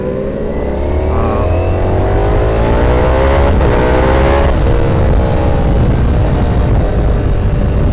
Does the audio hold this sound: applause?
no